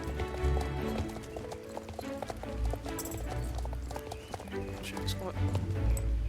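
Horse galloping in a video game, with steady clip-clop hoofbeats and a whinny, loud and continuous alongside game sounds while people talk over it.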